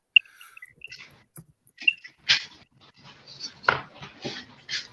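Puppies making small yelps and whimpers in short scattered bursts, close by, with a few high squeaky calls among them.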